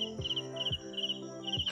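Frogs calling at night during an eel-catching outing, a steady pulsing chorus of repeated croaks in short bursts, moderately loud and close, with no talking.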